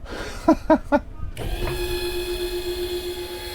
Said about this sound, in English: what they've added is an electric motor